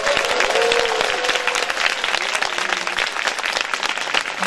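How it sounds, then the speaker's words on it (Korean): A studio audience at a public broadcast recording claps loudly for the production staff, dense applause filling the space throughout while a voice speaks briefly over it. "관계자분들 고생하신 분들 박수."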